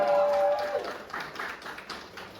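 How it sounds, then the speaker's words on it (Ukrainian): Audience at a stand-up comedy round in Kharkiv applauding a performer's introduction, clapping rising after a short held tone and continuing as an uneven patter, moderately close, with a few voices underneath. "Ваші оплески!"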